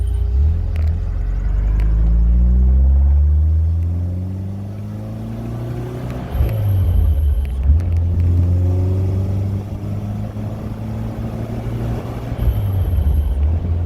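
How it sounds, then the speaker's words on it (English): 1974 Alfa Romeo car cruising in 4th gear at about 50 mph on a test drive, heard from inside as a loud steady engine drone with rising harmonics as it accelerates, easing off and building again, no talking. "Doing about 50 miles an hour, 4th gear."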